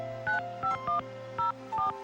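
Cell phone dialing on a marine-action phone line: about six short paired-tone keypad beeps at uneven intervals over a steady low hum, close and clear, no voices.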